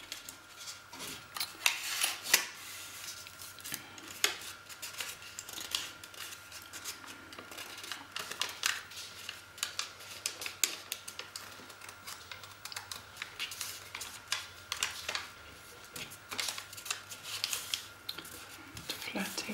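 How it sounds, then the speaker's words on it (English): Paper is handled and creased close up while folding an origami crane petal fold, giving soft crinkles, rustles and sharp little taps in an irregular run throughout. "I take this tip here and lift it up like that and do a petal fold"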